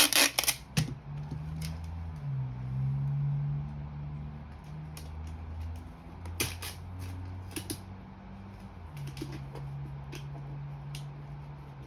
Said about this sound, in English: get some tape and tape my sign to the back of the dowel